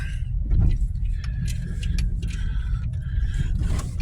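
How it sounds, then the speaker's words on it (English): A Jeep rumbles along a rough trail, its engine giving a low, steady drone. Metallic rattles, clinks and jangles from the bouncing vehicle come through close and repeatedly. "decided to take the Jeep out for a little spin"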